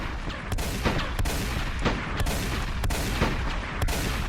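Rapid bursts of video game gunfire crack repeatedly over a dense, noisy backdrop, with sharp shots recurring every second or so.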